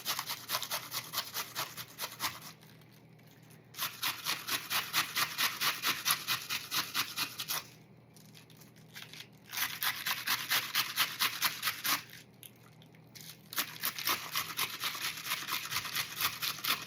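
Cabbage grated against a hand grater in a kitchen: brisk, rhythmic rasping strokes in three long bursts separated by short pauses, close and fairly loud, with no talking.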